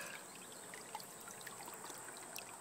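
Water running through a homemade gold prospecting sluice with matting, a steady close trickling flow with small splashes and bubbling.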